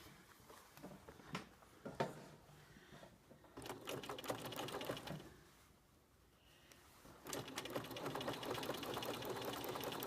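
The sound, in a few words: sewing machine top stitching through quilt layers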